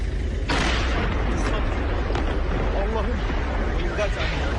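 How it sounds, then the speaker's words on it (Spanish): A loud booming blast, heavy and rumbling, sits within a constant noisy roar with a voice speaking over it. "El grupo se dispersó y segundos después ocurrió una explosión"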